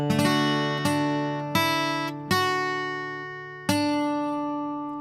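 Guitar picking single notes from a song: five clear plucked notes that ring and decay, each overlapping the last, played alone and close with no talking.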